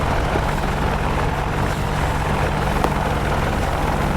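A helicopter's steady rotor drone with engine hum in the DCS flight simulator game, constant and fairly loud throughout, with no talking.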